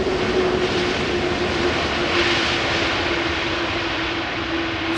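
An airliner's jet engines during landing at Amsterdam Schiphol, a loud, steady broadband roar with a sustained whining tone, close and continuous, easing slightly near the end with no voices.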